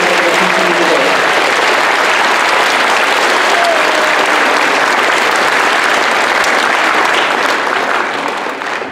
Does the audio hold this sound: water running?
no